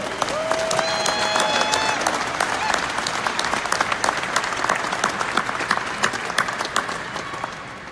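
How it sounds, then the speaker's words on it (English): Delegates at a Massachusetts Republican Party convention in Worcester break into loud, sustained applause. Shrill whistles cut through early on, and the crowd noise stays full and busy throughout. "I want to start by asking you to give yourselves a big round of applause"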